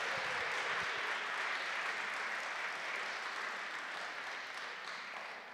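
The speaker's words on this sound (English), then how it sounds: "Just applause at that moment would be awesome." Audience applause fills a college music department concert hall, a steady dense wash of many hands clapping at even loudness that tapers slightly toward the end, with no voices over it.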